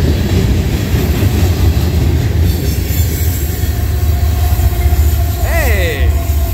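A Norfolk Southern freight train with coil cars rolls loudly past close by at Creighton, Pennsylvania, a continuous heavy rumble of wheels on rail with a brief squeal near the end, while voices talk over it.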